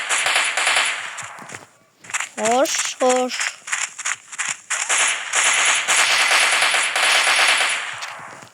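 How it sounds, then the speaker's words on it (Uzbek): Rapid bursts of gunfire in a blocky Minecraft-style video game shootout, loud and sustained through most of the stretch, with a short lull partway and someone speaking briefly over it. "Qani otishmamiz boshlandi."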